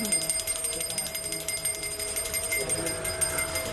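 An electronic bell rings continuously in rapid pulses, bright and steady throughout with no pauses.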